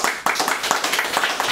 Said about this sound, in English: So let's all give a round of applause for Clifford.